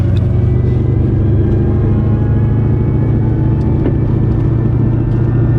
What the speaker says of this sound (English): we're just going to take the car down the road real quick